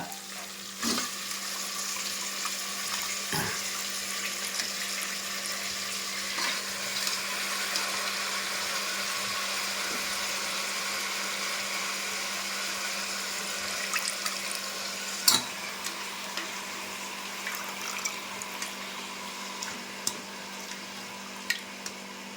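A kitchen tap runs steadily while hands are washed after cooking a country chicken curry, a continuous close rushing of water with a few faint knocks and splashes over about twenty seconds.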